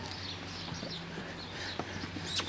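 A Nili-Ravi buffalo on a farm in Punjab, Pakistan, is led out on foot, its hooves making faint, uneven steps against a low background hum.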